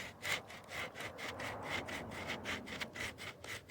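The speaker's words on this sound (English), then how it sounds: "Now I am going to have to come back in here and sand, you know, these edges where the paint has peeled" Hand sanding of peeled paint edges on a car body, a steady rhythmic back-and-forth scratching with regular strokes, close and fairly quiet, no voices.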